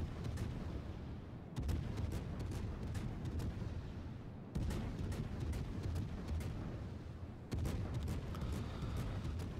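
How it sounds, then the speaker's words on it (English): Warship naval gunfire in World of Warships: three heavy booming salvos a few seconds apart over a constant low rumble, each followed by crackling shell reports. "so I'm going to start shooting at him"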